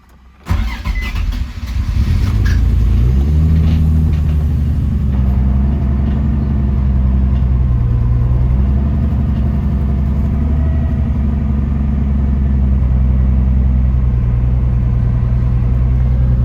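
A Nissan VQ35HR engine from a Japanese import cranks and fires on its first start, then settles into a loud, close, rough and uneven idle that rumbles steadily to the end, with no talk.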